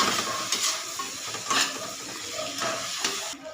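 A fish head, red snapper for sinigang, is stirred in a pot, with scraping, clinking stir strokes over a steady sizzle, close and fairly loud throughout.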